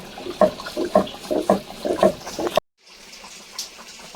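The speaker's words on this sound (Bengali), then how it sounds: "আর এদিকে মাছের তরকারিটা ফুটছে" Fish curry of catla fish with ridge gourd and potato boiling in a pot, giving close, rhythmic bubbling and gurgling that stops abruptly, followed by faint, quieter background.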